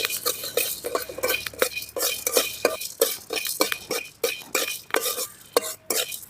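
Chana dal and black pepper dry-roasting in a pan for curry leaf rice powder, stirred briskly with a metal spoon that clanks and scrapes against the pan in a quick, irregular rhythm, loud and close.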